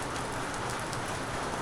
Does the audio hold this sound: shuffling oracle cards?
no